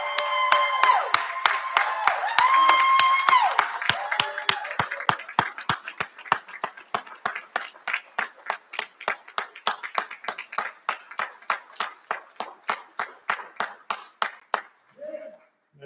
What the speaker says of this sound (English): give them an even louder, more rousing round of applause